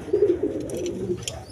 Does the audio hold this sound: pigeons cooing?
yes